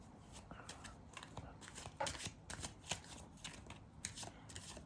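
Tarot cards riffle and flutter in a quick shuffle, a soft, close and crisp run of card sounds that goes on steadily for several seconds with no speech.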